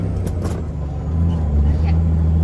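A cabover truck's diesel engine is throttled up, its low idle rumble swelling into a louder, steadier drone, with a few faint clicks and a short hiss early on.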